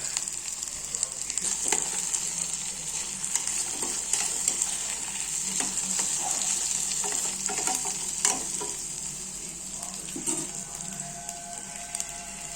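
Ground sweet corn stirred into cabbage cooking in a pan for corn flour soup, repeated scraping and clinking strokes over a constant high hiss, close and steady with no talk.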